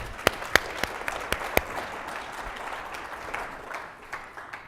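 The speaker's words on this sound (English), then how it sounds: "Let's give him a round of applause." A conference audience welcomes a speaker to the stage with applause: a few sharp, close individual claps ring out at first over a softer background of clapping that thins and fades.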